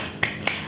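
Schoolchildren in a fifth-grade classroom clap out a 'tepuk semangat' spirit cheer, two crisp, evenly spaced claps heard close and clear.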